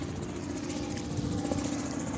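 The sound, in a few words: helicopter flying overhead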